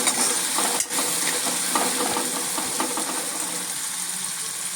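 Potatoes frying in a spice tempering are stirred in a pan: a close scraping, rattling stir with a faint sizzle beneath and one brief thud near the start.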